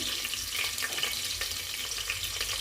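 Onion and curry leaves with mustard seeds fry in a hot pan, giving a steady, close, dense hiss with a slight bubbling crackle throughout and no talking.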